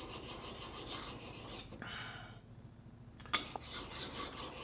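Block plane blade being honed on a sharpening stone, its back rubbed in steady rasping strokes up close, broken by a short quieter pause before the scraping resumes.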